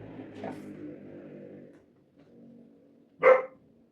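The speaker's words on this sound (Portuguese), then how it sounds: "o cachorro tá latindo agora" A dog barks a couple of times in the background, each bark short and moderately distant, with quiet gaps between them in an otherwise calm indoor space.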